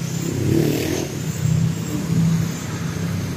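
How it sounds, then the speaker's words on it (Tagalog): Dense road traffic on a sunny street, a continuous rumble of car and motorcycle engines with revving swells, steady and fairly loud with no voices. "Sobrang traffic."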